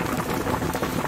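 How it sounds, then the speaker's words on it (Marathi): Heavy rain falls in Boisar, Palghar, following a cyclone, a dense, even hiss of drops close by with no pauses, alone without talk. "एवढा जोरात पाऊस पडत आहे या ठिकाणी"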